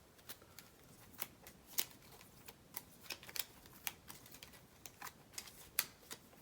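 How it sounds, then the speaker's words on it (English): Game cards from a Marvel Champions side scheme deck being shuffled on a table, a quiet run of soft riffling ticks and flicks spread irregularly over several seconds, with no talk. "And we'll shuffle our side scheme deck as well."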